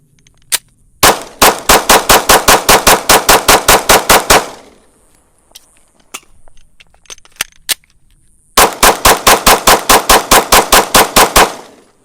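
A Mossberg MC2C compact pistol fires two rapid strings of roughly fifteen to twenty loud, sharp shots each, separated by a quiet pause with faint handling clicks and clatter.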